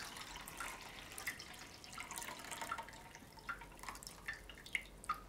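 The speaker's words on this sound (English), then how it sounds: "just pour the water out" Soapy wash water poured out of a container after cleaning oily drills: a faint, steady trickle and splash with scattered small drips and gurgles throughout.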